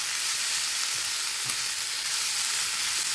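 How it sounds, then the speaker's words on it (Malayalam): Chopped prawns frying in masala in a pan, a loud, steady, close sizzle with a dense hiss and a few faint stirring scrapes, no talking. "നമുക്ക് ചെമ്മീൻ ചെറുതായിട്ട് അരിഞ്ഞത് അതിനകത്തോട്ട് ആഡ് ചെയ്ത് കൊടുത്ത് നന്നായിട്ടൊന്ന് മസാല കിടന്ന് ഒന്ന് പൊടിഞ്ഞ് ഫ്രൈ ആയിട്ട് വരട്ടെ"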